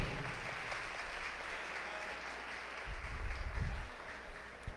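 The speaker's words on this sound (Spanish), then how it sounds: "Un fuerte aplauso." Congregation at a Saturday afternoon Catholic Mass applauds, a soft, steady patter of many hands heard at a distance in a reverberant church, with low rumbling murmur underneath.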